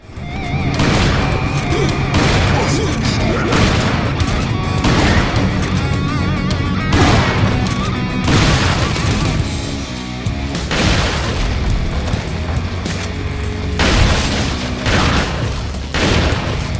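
Shotgun blasts from the video game Resident Evil 4 boom repeatedly over a dense, loud mix of game action and crashes, with several heavy shots spread through the clip.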